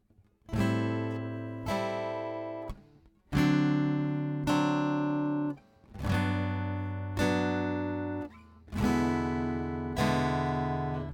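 Rhythm guitar strums chords in a swung offbeat pattern, ringing bursts arriving in short-long pairs over about eleven seconds, played close and clear with no voice.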